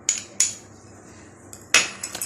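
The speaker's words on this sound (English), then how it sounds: "And stir it." A metal spoon stirs hot pepper puree in a container, giving a few sharp clinks and scrapes spaced apart, close and fairly loud, with no talking.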